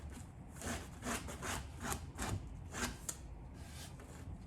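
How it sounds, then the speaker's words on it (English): Sandpaper is rubbed lightly along the edge of decorative rice paper in a series of quiet, soft scratchy strokes, a handful of brief rasps repeating at an uneven rhythm. "It looks really nice when you just kind of lightly sand it off."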